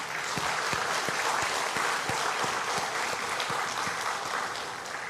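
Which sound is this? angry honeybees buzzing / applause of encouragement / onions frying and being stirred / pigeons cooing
applause of encouragement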